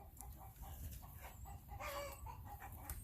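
Several roosters cluck softly back and forth at close range in a farmyard, short overlapping murmurs and calls over a steady low background.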